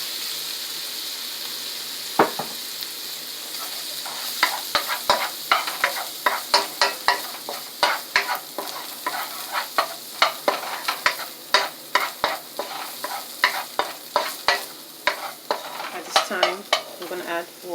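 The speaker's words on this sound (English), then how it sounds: "At this time, I will add my Chinese cooking wine." Shrimp stir-frying in a hot wok with a splash of Chinese cooking wine, for shrimp with lobster sauce: steady loud sizzle with a burst as the liquid hits, then rapid repeated scraping and clacking of the spatula stirring, alone without talk.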